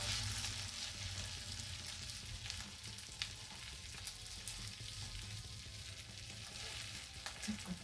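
Tofu slices frying in a pan, a steady close sizzle of hot oil running throughout with a few faint clicks of handling near the end.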